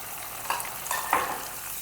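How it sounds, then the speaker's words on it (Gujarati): Dal fries in hot oil for a chevda snack, a soft, faint sizzle with three brief swells as it is stirred. "અહીં છેલ્લી બચેલી દાળને પણ આપણે તેલની અંદર એડ કરી દીધી છે"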